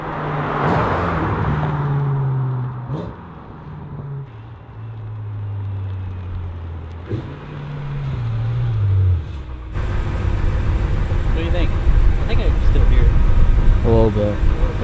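Built BMW M5 engine running with exhaust valves closed, a low muffled droning rumble that rises and falls with revs before a louder broadband roar takes over, while people talk.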